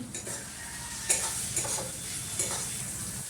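Slit green chillies frying in a pan, a close crackling sizzle broken by several sharp spatula scrapes and clinks against the pan, with no one talking.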